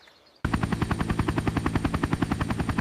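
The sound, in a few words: helicopter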